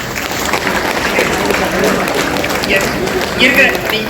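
Audience at an education guidance event for students applauds the minister, steady dense clapping with crowd noise throughout, fairly loud, with voices mixed in.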